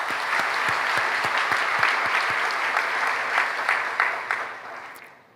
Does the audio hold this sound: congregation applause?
yes